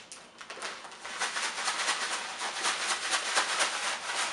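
Granular bath salts rattle and swish inside a plastic bag, shaken close up in a steady rhythm, with no voices.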